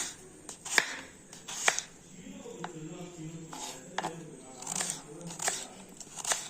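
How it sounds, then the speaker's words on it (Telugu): Carrot being chopped into small pieces with a knife, giving sharp, close taps and crunches in an irregular rhythm over a quiet background. "క్యారెట్ ముక్కల్ని ఇలా చిన్న చిన్న పీసెస్గా కట్ చేసుకుందాము"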